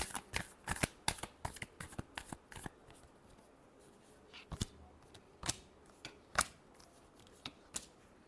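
Tarot cards are shuffled in quick bursts of crisp riffling snaps, with short pauses between handfuls. The sound is close, fairly quiet and heard alone.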